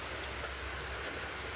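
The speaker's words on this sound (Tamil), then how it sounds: "என்ன மக்களே, பார்த்தீங்கன்னா சரியான மழை பெய்யுது" Heavy rain pours down steadily, a dense continuous hiss with scattered close drops spattering on surfaces, no voices over it.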